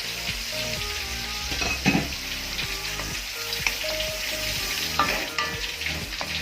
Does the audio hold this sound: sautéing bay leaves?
yes